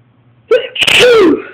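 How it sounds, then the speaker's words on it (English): A single loud, close sneeze with a breathy intake building into a sharp, voiced burst, heard alone. "Hold on, I gotta sneeze."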